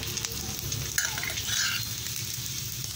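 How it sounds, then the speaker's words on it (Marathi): Okra frying in oil over a low flame gives a continuous close sizzle with a few light scraping stirs. "तेलावर तळून घ्यायचं असतं जरा"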